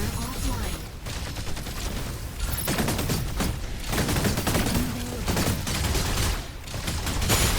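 Assault rifle fire from the mech game Mechabreak rattles in dense, sustained bursts with brief gaps, loud and close, while someone talks excitedly over it.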